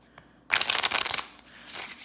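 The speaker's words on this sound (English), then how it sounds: "as I'm shuffling" A deck of cards being shuffled up close during a tarot-style reading, a quick riffling flutter lasting under a second followed by softer rustling and a second brief riffle.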